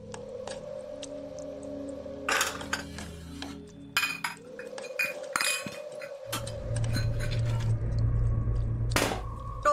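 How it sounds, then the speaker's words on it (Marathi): Dishes and pots clattering in a kitchen during a Marathi TV drama scene, with repeated sharp clinks and knocks of metal and glass over a steady background hum. "हो भांडी किती कापटतस?"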